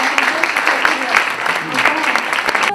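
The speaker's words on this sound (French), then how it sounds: "Sous vos applaudissements, s'il vous plaît." An audience applauds at the 2025 Miriam Makeba Prize award ceremony honouring Hamza Taj: steady, dense clapping throughout, with a voice or tonal sound carrying faintly over it.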